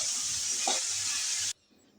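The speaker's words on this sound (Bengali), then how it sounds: "একটু সরিষা আর একটু মরিচ তেলের উপরে দিয়ে তারপর কুমড়োগুলো দিয়ে ভেজে নিচ্ছি" Pumpkin pieces fry in hot oil with mustard and chilli, giving a loud, steady sizzling hiss close by that stops abruptly after about one and a half seconds, leaving near silence.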